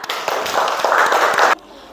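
Pupils in a classroom clap together in a burst of quick, rapid handclaps that continue for about a second and a half, then stop abruptly, leaving quiet room tone.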